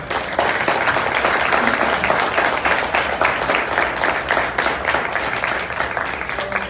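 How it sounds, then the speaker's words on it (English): A room of people gives a round of applause for volunteers of the Complete Count Commission at a community census event. The clapping is loud, dense and steady from start to finish. "Please give them a round of applause."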